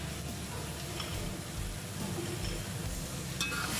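Water spinach stir-fried with garlic and chicken in a hot pan, giving a steady close sizzle with soft scraping and stirring noises throughout.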